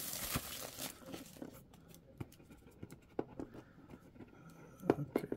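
An X-Acto knife cuts open a cardboard shipping box, with quiet scraping, slicing and tearing sounds and scattered sharp crinkles and taps, close and fairly faint.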